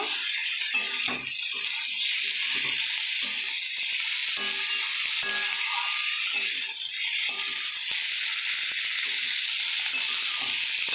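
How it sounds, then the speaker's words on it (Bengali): Taro leaves frying lightly in a pan give a steady, bright sizzle with soft crackles and small clicks throughout, close and continuous with no talking. "কলা কলাকচু পাতাটা একটু হালকা করে ভেজে নেব"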